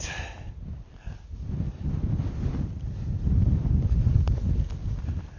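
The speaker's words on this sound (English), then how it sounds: "The wind's really picked up here." Strong wind buffeting a microphone on the summit of Bessyboot, a mountain top, with a continuous loud low roar that rises and falls in gusts.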